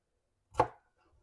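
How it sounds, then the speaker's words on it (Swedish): A knife makes a single crisp, close chop while cutting carrots into pieces for pressure canning, with silence before and after the stroke. "Sen är det bara att dela i bitar och börja fylla på."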